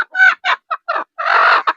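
Brooding hens kept in a nest box for egg incubation cluck up close in a quick series of short, loud bursts, ending in a longer drawn-out cackle, with no other sound between calls.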